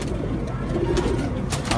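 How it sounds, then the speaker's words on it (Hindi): Rajasthani Kalmuhe pigeons coo softly nearby in a short run of low, soft calls over a faint background hum. "ये देखें कलमुए कबूतर देखें"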